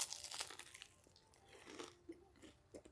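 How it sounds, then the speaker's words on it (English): Crunchy takeout food from a National City spot bitten into up close, a few crisp crunches followed by soft chewing, fairly quiet with no talking. "ready for the crunch?"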